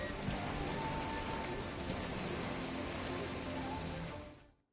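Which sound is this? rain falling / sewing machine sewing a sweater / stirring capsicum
rain falling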